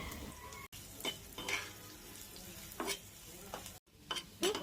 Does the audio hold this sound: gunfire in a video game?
no